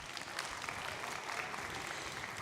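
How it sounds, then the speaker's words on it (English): An audience gives a round of applause at a children's pirate-dogs story show, steady moderate clapping continuing throughout with no voices over it. "Give him a round of applause."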